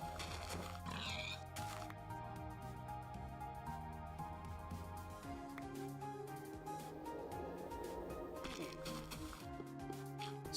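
Pigs oinking in the Minecraft Infdev video game, heard faintly among game music with its melodic notes and a speaking voice.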